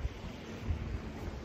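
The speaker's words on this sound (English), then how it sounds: "I'll show you the ocean" Ocean surf rolls continuously along the Maui shore while wind buffets the microphone, a steady low roar with a slight swell midway and no voices.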